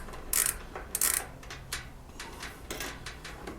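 A nut driver turning a screw on a three-prong dryer power cord, heard as close, irregular scraping clicks and ratchety metal taps, loudest in a few sharp bursts near the start.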